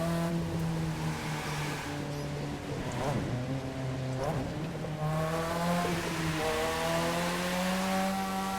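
A car drifts in The Crew 2 racing game, its engine droning and shifting pitch through the slide, steady and up close, with someone talking in French over it.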